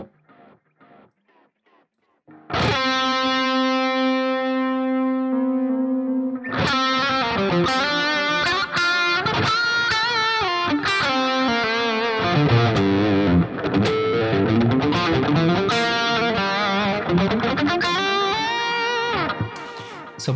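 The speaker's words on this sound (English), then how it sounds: "if you add a long delay to this tone, you could get, I think, a nice lead tone" Electric guitar playing a lead line through a long delay, a sustained chord ringing out then busy picked notes with echoing repeats, loud and continuous, no talking.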